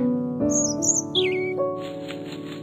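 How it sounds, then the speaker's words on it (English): Birds chirp and flutter in a quiet park scene in The White Door puzzle game, with a few short bright calls over soft background music, then a rapid whirring flutter as one bird takes off. "A bird flew away."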